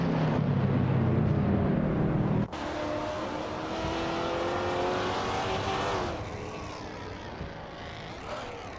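Race cars in a racing video game, including a classic 1994 Volkswagen Golf, their engines droning and revving loudly and continuously, with a sudden shift in pitch as the field passes.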